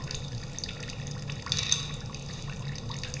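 Water drips in a laboratory glassware setup with an addition funnel. Faint liquid trickles and drips sit under a low steady hum, with a slightly clearer drip midway.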